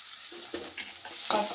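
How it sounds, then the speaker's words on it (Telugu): Garlic and onions frying in a pan, with a soft sizzle and a few quick stirring scrapes of a spoon against the pan, close and fairly quiet. "ఇప్పుడు ఉల్లిపాయ ముక్కలు వేగాయండి."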